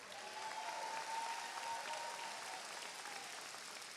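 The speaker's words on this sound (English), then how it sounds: "Let's give them a round of applause again." Sustained applause from a commencement audience honoring the Collinwood High School class of 2026, a steady, even wash of clapping that stays fairly distant and continuous throughout with no speech over it.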